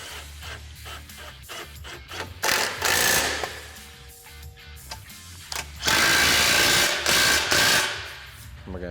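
A power tool tightens bumper bolts on a Kawasaki Teryx in short bursts of whirring and ratcheting, with loud louder runs between pauses and a voice speaking in the quieter gaps.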